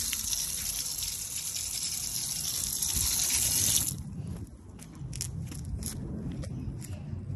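Water sprays in a steady, loud hiss onto a blue Xbox controller, then stops and gives way to softer splashing and dripping.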